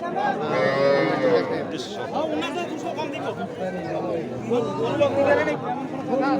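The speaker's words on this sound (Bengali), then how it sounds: "সার গরু" Cattle, including bulls, low and moo at a rural cattle market over a steady babble of nearby voices, with people talking throughout.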